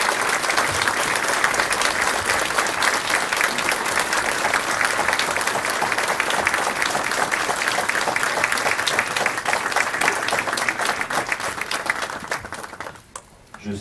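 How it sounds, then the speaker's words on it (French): An audience applauds at a mayor's New Year address in Ruaudin, France, sustained loud dense clapping from a large crowd that tapers off near the end. "je voudrais qu'on applaudisse pour le remercier pour son action."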